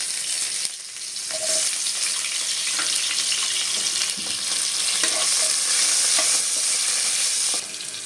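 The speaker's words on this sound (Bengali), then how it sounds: "এখন আমি আলুটা ভেজে নেব" Sliced potatoes frying in a pan of oil for a drumstick (sajne data) curry, a steady loud sizzle with scattered crackles and occasional stirring scrapes, running continuously without talk.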